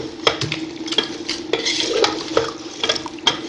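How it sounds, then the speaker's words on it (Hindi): Beef being mixed with spices in a pot for achari gosht, with repeated close scraping and clinking of a spoon against the pot in an irregular rhythm, clear and fairly loud, no talking. "अब यहाँ पे इसे अच्छे से मिक्स करेंगे हम।"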